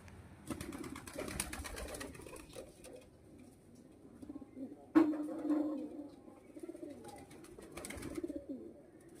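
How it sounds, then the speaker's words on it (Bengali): Pet pigeons coo softly in low, throaty bursts, with repeated mechanical rattling and a sharp knock partway through; close and fairly quiet. "এটা আমার একটা মুখী পায়রা"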